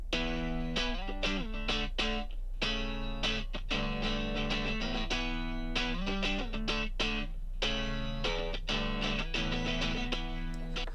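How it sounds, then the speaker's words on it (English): Distorted electric guitar riff playing choppy, rhythmic chords with short stops between phrases, loud and steady throughout with no talking. "that the very first scratch guitar that we laid down"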